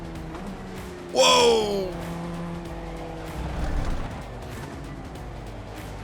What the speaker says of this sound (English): the leader has spun out